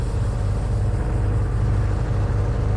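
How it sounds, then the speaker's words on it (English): The car engine in the driving game The Radio Station, set on Japanese roads, gives off a loud, steady, low-pitched drone. The hum is constant and unbroken, dominating the sound alone with no talk over it. "the car for some reason is hell loud"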